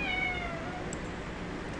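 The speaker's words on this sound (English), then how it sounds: "If you heard the cat meowing" A cat meows once, faint and drawn out, at the very start inside an apartment, then fades into a steady background hiss with no voices.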